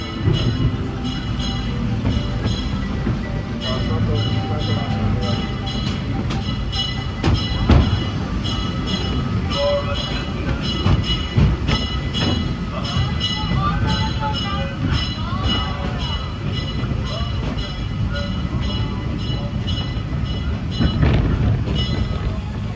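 A Disneyland Railroad train on a cloudy day, heard from a car riding behind the locomotive: steady rumbling rolling noise with rhythmic wheel clatter and brief squeals, sustained and close throughout.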